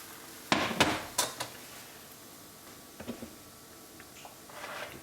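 A crêpe being loosened and flipped in a pan: a few quiet, sharp clinks and taps of utensil against pan, spaced apart, in an otherwise calm kitchen.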